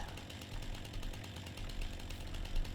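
A chainsaw cuts into a tree in the logging game Farming Simulator 19, giving a steady, rough, buzzing engine drone that holds for a few seconds without any talk.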